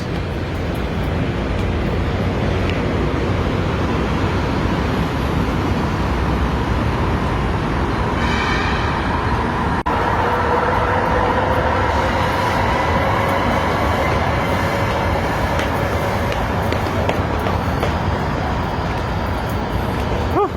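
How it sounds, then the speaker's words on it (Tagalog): A train rumbles through an underground EDSA station, a continuous loud roar of wheels and echoing track noise with a brief high squeal partway through, no talking. "Underground dito, EDSA. Ito daanan ng train. Ito yung station."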